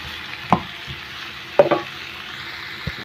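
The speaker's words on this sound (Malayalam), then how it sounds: "നമ്മൾ നേരത്തെ അരിഞ്ഞു വെച്ച വഴുതനങ്ങ ഇതിലേക്ക് ഇട്ട് കൊടുക്കാം. നന്നായിട്ടൊന്ന് ഇളക്കി കൊടുക്കണം." Sliced brinjal (eggplant) frying in an oil pan for a Kerala mezhukkupuratti, with a spoon stirring it in a few distinct scrapes over a steady, soft sizzle; no voices.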